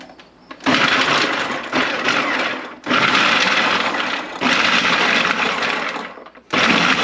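Kitchen food processor pulsing freshly harvested horseradish, loud whirring bursts of a few seconds each separated by brief pauses, close up with no talk.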